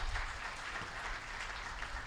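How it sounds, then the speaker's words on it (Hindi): Faint, steady applause from an audience washes through as a soft, dense patter of many hands, distant and continuous for a couple of seconds. "शर्मा जी जोर से तालियां बजा लो।"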